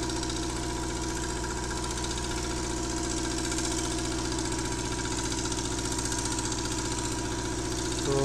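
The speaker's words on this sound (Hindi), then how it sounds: "ये मिक्सर मशीन के जरिए मिक्स हो रही है।" A concrete mixer machine runs steadily while mixing a 1:4 concrete batch for a plinth beam at a building site, a constant loud mechanical drone with rhythmic knocking throughout and no talk.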